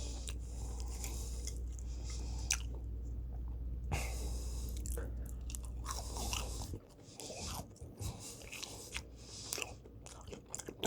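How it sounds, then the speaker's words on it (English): Loud, close crunching and chewing of crispy fried catfish fillet, with crisp bites and wet mouth sounds right by the ear. "And I don't know if you can hear the crunch."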